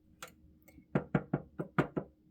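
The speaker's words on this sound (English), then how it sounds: "there's a little bit left on there, so we'll just knock that off there" Coffee-stained paper is knocked against a surface to shake off leftover coffee, giving six quick, close, dull knocks in an irregular rhythm after a couple of softer taps.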